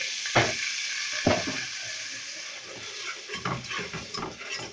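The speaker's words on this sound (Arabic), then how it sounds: "احمص بقى كويس لغايه ما الدقيق يستوي" Flour toasts in melted ghee with a steady frying sizzle hissing throughout, broken by a couple of utensil knocks and soft scraping stirs in the pan.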